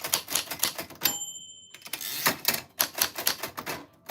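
Rapid keyboard typing in a quiet room, dense bursts of clacking keystrokes with a brief pause in the middle, close and fairly loud.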